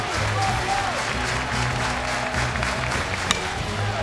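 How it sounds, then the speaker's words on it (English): Baseball stadium crowd at a college game clapping and cheering in a continuous, even roar throughout, fairly loud with a distant, spacious feel. "The crowd will have to get revved up again."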